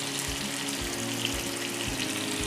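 Kerala-style fish fries in a pan coated with ginger garlic paste, giving a steady close hiss of sizzling oil with a few soft low thumps, and no voices.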